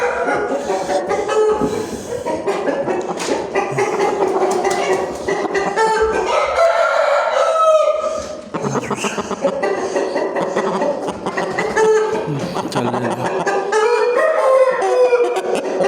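Fighting roosters crow loudly and close, several long drawn-out calls one after another, with clucking and background noise between them.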